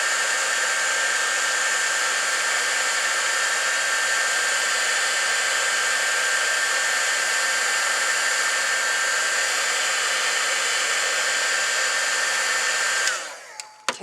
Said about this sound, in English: I'm going to wait till my heating gun gets hot enough to melt it